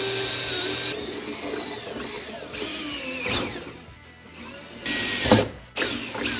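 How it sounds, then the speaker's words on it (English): A power drill whirs in bursts, its pitch rising and falling as it bites into material while drilling holes to mount a trunk backrest, with short pauses and a brief stop near the end. "I'm gonna go ahead and drill the first one"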